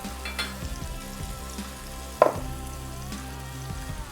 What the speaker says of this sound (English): It's already getting hot, so I'm gonna drop my onions in.